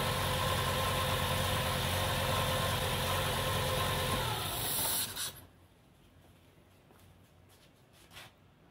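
A car engine idles steadily and loudly with a hissing wash on top, then is switched off about five seconds in, leaving near silence with a few faint clicks.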